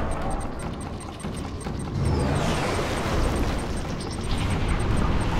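Nuclear missile strike in the real-time strategy game Command & Conquer Kane's Wrath, a rising whoosh giving way to a heavy, sustained rumbling blast, with mechanical clicks and a faint announcer-style voice.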